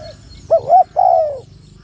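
Spotted dove cooing at close range outdoors: one short note, then a rising two-part coo and a longer falling coo, over a faint low background hum.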